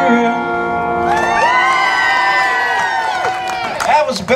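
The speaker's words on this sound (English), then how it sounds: "Now the whole darn bus is cheering." Passengers on a bus burst into loud cheering and whoops, a dense crowd roar that swells after a moment and stays full, with shouts rising near the end.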